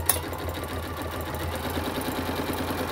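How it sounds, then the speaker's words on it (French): A sewing machine runs close by and steadily, stitching a handbag panel, its fast mechanical chatter and motor hum holding even throughout. "Et on coud."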